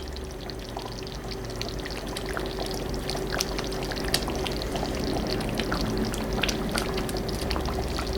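Reserved morel mushroom juice pours in a steady, continuous stream into a simmering pot of beef stew, close and fairly loud, with faint crackles and no voices.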